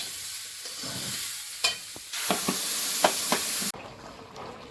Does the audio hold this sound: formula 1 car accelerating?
no